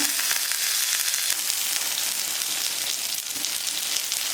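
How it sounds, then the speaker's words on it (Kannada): Butter sizzling on a hot tawa on a stove while making pizza on a readymade base, a loud, close, continuous crackling hiss with no talking. "ಸ್ಟವ್ ಮೇಲೆ ತವಾ ಇಟ್ಕೊಂಡಿದ್ದೀನಿ. ಬಟರ್ ಆ್ಯಡ್ ಮಾಡ್ಕೊಳ್ಳೋಣ."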